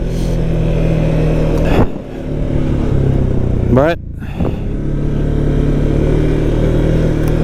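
A 2023 Can-Am Outlander 700 XT ATV with a big-bore 650cc single-cylinder engine idles and revs nearby with a steady low drone, briefly dips, then swells in a short rising rev, while someone talks over it.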